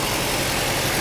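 A Mercedes W123 230E engine running rough at idle, a steady low rumble with shaking vibration throughout the second, close and loud, with no talking over it.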